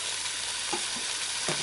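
A leg of lamb browning in oil with spring onions in a pan on a fast cook setting, giving a steady close sizzle with a few soft stirring scrapes.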